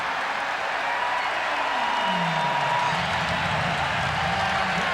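Portland home crowd in a basketball arena during a 1998 Lakers–Blazers playoff game, a steady roar of applause and cheering that swells and holds for the whole stretch, with a commentator's voice faintly beneath it.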